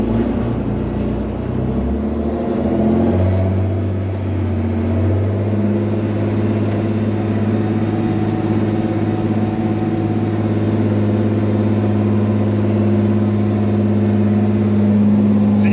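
An old dump truck with its hood off rolls down a hill after brake repairs, its engine giving a steady low rumble that deepens into a sustained drone, close and continuous with no talking.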